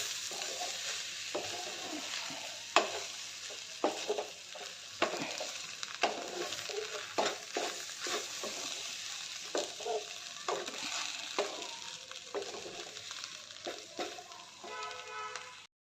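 Cooked rice is stir-fried in a hot pan for carrot rice. A soft, continuous sizzle runs underneath, broken by repeated spatula scrapes and knocks against the pan.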